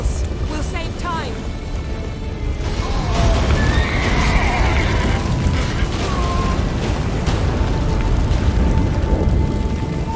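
A horse whinnies in The Witcher 3 over a loud, rumbling game soundscape, with a rising squeal and tonal effects mixed into constant low roaring noise.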